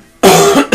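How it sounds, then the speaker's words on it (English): A single harsh, close cough after a brief quiet moment, followed by the start of a second cough. "I still got this cough"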